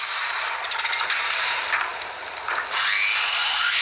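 A saw sound effect in a Skibidi Toilet animation, a harsh, dense rasping whine that continues steadily with rhythmic surges, loud and alone.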